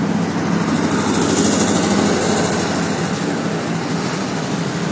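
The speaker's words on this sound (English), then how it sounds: "now you'll notice the generator is outputting, supplying power, and mains is also supplying power" Pramac GSL65D diesel standby generator running steadily at close range, a loud continuous low engine drone with constant vibration and no speech.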